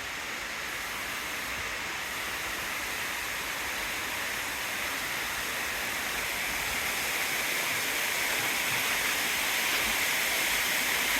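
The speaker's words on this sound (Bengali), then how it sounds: "এটি ছোট কিন্তু অনেক সুন্দর একটি ঝর্ণা।" A small waterfall at Sitakunda makes a continuous, dense roar of falling water, steady and close from start to finish, with no voices over it.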